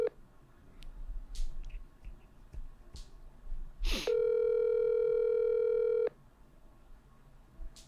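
A telephone call forwarded to voicemail gives a single steady tone lasting about two seconds, preceded by a brief burst and set over faint low background noise.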